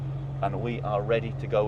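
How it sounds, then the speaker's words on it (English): A Mercedes 300 SL Gullwing's 3-litre straight-six idles with a steady low, even hum close by while someone talks over it. "We've already started the engine. You can hear that straight six, 3 litre straight six, purring away."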